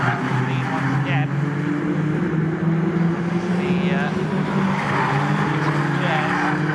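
Caterham Seven 270R race cars circling Snetterton in a half-hour championship race, a steady loud engine drone with tyre squeal, while a commentator talks over it throughout.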